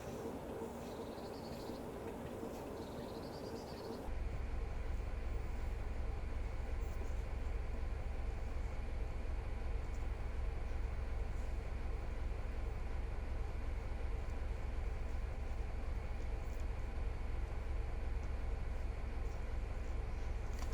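A Swanage diesel locomotive in Train Simulator Classic rumbles with a steady, loud low drone that surges up after a few seconds and holds continuously, with a faint tone over it.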